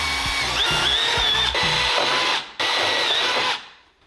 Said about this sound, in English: I'm gonna drill 4 1/4-inch holes, just center.